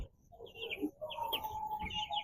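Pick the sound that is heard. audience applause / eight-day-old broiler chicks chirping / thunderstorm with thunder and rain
eight-day-old broiler chicks chirping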